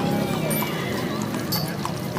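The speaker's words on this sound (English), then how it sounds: "And then we've got the horses making their way through." Horses walk through a Christmas parade, their hooves clip-clopping at a steady pace on pavement amid crowd noise, with voices talking over them.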